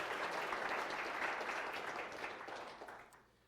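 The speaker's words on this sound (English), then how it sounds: "So just a round of applause for that." Sustained applause from a seated audience at a physics colloquium, honoring the organizers and committee, steady and dense for about three seconds before tapering off near the end, heard at a modest distance.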